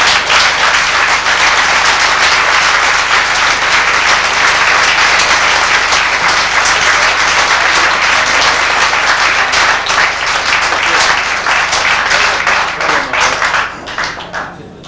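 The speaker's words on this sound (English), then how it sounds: "Will you give a warm round of applause to a fellow who I hope he comes for many years to come, Norman Fletcher of England" Enthusiastic applause at a club bowls final in a village club hall, a dense crowd clapping loudly and steadily for about fourteen seconds before tapering off at the end.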